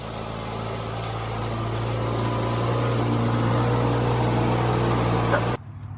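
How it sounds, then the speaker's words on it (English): BMW car pulling slowly into a garage, a steady close engine hum with a low drone that holds evenly, then cuts off abruptly near the end. "let's pull the BMW in here"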